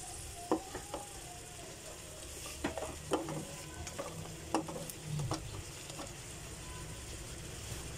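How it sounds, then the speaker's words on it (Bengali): Green chillies with ginger paste sautéing in a hot pan, a continuous sizzle broken by a few sharp scrapes and taps of a spatula stirring, close and without talk. "দিয়ে দিচ্ছি কাঁচামরিচ একটু সতে করে নিচ্ছি আমি"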